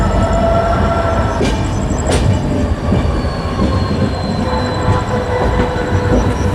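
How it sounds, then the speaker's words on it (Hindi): An Indian train hauled by a diesel locomotive runs loudly and close by, with a constant rumble, rattling wagons, rhythmic clicks and brief high squeals from the wheels. "गजब का साउंड आ रहा है इसका डीजल लोकोमोटिव का।"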